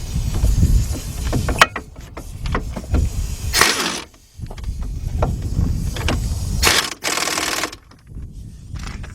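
Mechanical clicking and ratcheting while a hub bearing bolt is tightened on the left front of a 2006 Chevy Impala, a steady run of close, busy metallic clatter with bursts of louder, brighter rasping.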